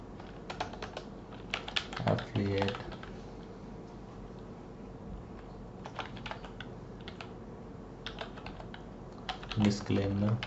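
Computer keyboard typing comes in scattered clusters of light, quick key clicks, close and moderately loud, while someone speaks intermittently over it.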